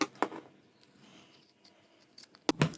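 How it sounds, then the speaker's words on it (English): Scissors trim a curved edge on scrap fabric for a sewn coin pouch, giving a few short, crisp snips at the start and the end with quiet rustling between. "we can trim that curve at both ends"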